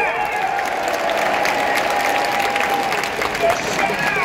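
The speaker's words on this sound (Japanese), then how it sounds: "選手に拍手。" A large crowd at Yokohama Stadium applauds the players after a DeNA BayStars versus Hanshin Tigers professional baseball game, with steady dense clapping and cheering throughout, and a voice calling out over it.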